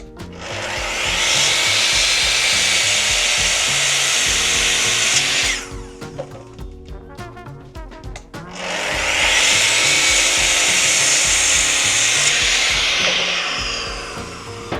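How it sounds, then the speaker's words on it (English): A miter saw set at 15 degrees cuts through wood in two long, loud passes, each a roaring motor whine with rasping blade noise lasting about five seconds. A quieter gap of clattering and the motor winding down separates the cuts. "I'm going to go and set my miter saw at 15 degrees"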